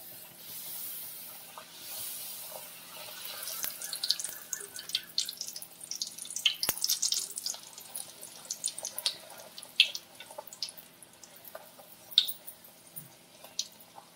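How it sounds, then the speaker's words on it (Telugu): Sweet maida-flour puris frying in hot oil, a dense close crackle and popping of bubbling oil with scattered sharp spits and hisses, rising in intensity after the first few seconds, no voices. "నూనె కాగింది, పూరీలు వేస్తున్నానండి"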